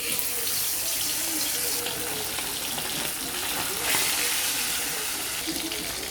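Fish frying in hot salted oil in a kadai gives a loud, dense, roaring sizzle that stays strong and continuous throughout.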